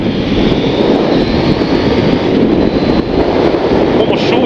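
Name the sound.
KTM 890 Duke GP 2023 motorcycle engine accelerating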